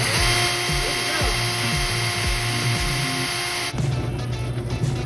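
A small drill boring a hole in glass whirs with a rhythmic, pulsing grind for several seconds, then the pitch and texture shift as it bites in; close and fairly loud.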